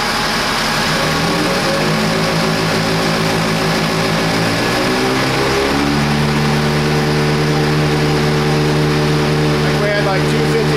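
Case IH combine hydrostatic pump and motor running on a dyno, a loud, steady mechanical hum and whine whose pitch shifts and settles partway through as the load switches to the motor, droning on continuously.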